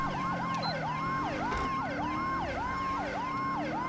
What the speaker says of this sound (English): I do love this power call siren.